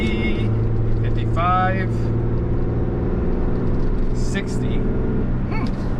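A Ford F450 Power Stroke or RAM 3500 Cummins diesel pickup towing a load at wide open throttle, engine drone steady and loud from inside the cab, with someone talking over it and calling out speeds.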